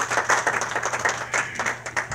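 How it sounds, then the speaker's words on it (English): A church congregation at a Sunday school service claps together in a loud, brisk, steady round of applause, heard alone without talk. "Give the Sunday school class teachers a hand clap."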